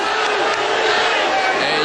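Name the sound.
crowd cheering for MMA fighter Baduria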